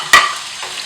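Whole uncut medium potatoes drop into hot oil spiced with cardamom, making a single loud splash and hiss that quickly fades to a soft sizzle.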